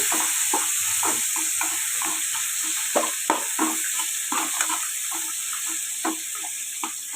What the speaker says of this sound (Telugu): నూనెలో కొంచెం ఇలాగా వేపుకుంటే పచ్చి వాసన పోయి బాగుంటుంది